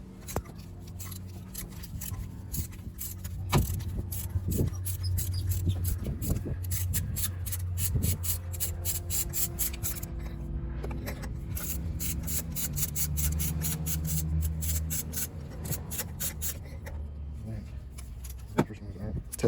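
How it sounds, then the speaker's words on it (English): Ratcheting torque wrench on two extensions and a spark plug socket, pulling spark plugs from a 2019 Mitsubishi Outlander: rapid metallic clicking bursts, some long and steady, others short, close up over a low hum, with occasional clanks and a brief voice. "we're going to use the torque wrench and 2 extensions and then the spark plug socket"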